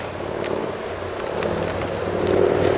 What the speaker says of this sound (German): nicht noch ein Motorrad wäre, wäre es hier noch viel idyllischer